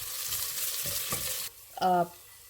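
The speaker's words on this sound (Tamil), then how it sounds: "கட் பண்ணி வச்சுருக்க இஞ்சியும் பூண்டையும் போட்டுக்கலாம். இது நல்லா வதக்கணும்." Ginger and garlic sauté in a hot pan, a soft steady sizzle with a few stirring scrapes, then a brief louder clatter near the end, quiet and close, no voices.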